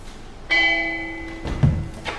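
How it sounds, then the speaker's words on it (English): A single church bell strikes clearly and rings out with a sustained tone during a stage play, followed by faint thuds. "The church bells!"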